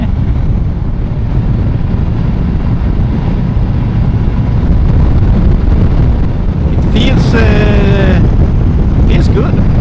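A Yamaha FJR 1300 motorcycle ridden fast, heard as a dense, loud roar of wind buffeting and low engine rumble throughout, with a brief voice breaking through near the end.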